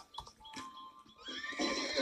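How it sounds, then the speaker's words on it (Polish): A horse whinnies in a Wild West video game, a short call followed by a louder, sustained neigh over faint in-game background sound. "No głupi koń."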